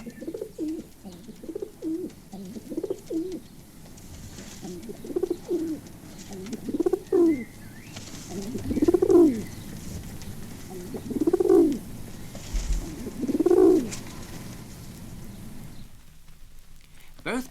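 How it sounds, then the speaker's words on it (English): A male pigeon coos in a bowing display to a hen, giving about six rhythmic, rising-and-falling coos at close range over faint background noise. "The male bird has a distinct cooing display to the hen, in which he raises his head and bows deeply."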